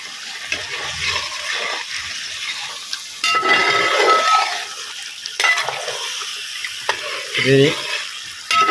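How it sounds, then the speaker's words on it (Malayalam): Beef bones being stirred with a spoonful of garam masala in a pan, giving a steady wet sizzle with scraping stir strokes and a few sharper clatters, fairly close and with no talk. "ഗരം മസാല പൊടി അത് നമുക്ക് ഒരു സ്പൂൺ അതിട്ട് കൊടുക്കാം എന്നിട്ട് ഇതെല്ലാം കൂടി ഇതിലേക്കൊന്ന് ഇളക്കി കൊടുക്കുക"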